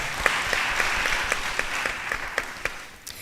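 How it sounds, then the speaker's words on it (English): Audience at a literary exchange event clapping for a panel guest, a steady wash of many hands with a few sharper close claps standing out, fading slightly toward the end. "Give Scott Dunn a big round of applause."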